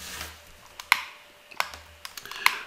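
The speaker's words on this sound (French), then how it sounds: "Je clique sur la barre slash." Keys tapped on a computer keyboard, including the slash key, a few sharp, close clicks spaced irregularly over a quiet background.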